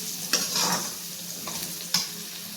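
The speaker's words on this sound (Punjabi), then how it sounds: "ਹੁਣ ਆਪਾਂ ਇਹਨੂੰ ਇਸ ਤਰ੍ਹਾਂ ਹਲਾਉਂਦੇ ਜਾਣਾ ਇਹਨੂੰ 5 ਮਿੰਟ ਤੱਕ ਆਪਾਂ ਇਦਾਂ ਹਲਾਵਾਂਗੇ" Mixed vegetables frying and being stirred in a pan for a home-style desi mix sabji, with a steady soft sizzle and a few sharp scraping strokes of the spoon standing out near and alone.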